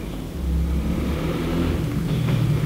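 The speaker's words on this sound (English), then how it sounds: "My neighbors love their motorcycles." Motorcycles belonging to neighbors rev and rumble outside throughout, a steady, moderately loud engine drone heard from indoors.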